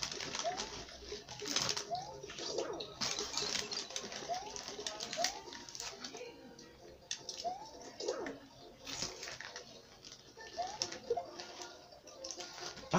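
A small bird chirps in short, repeated calls scattered over several seconds, near but fairly soft, mixed with household background noise and occasional clatter.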